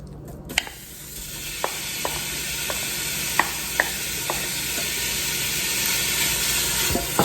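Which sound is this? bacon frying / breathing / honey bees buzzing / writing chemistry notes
bacon frying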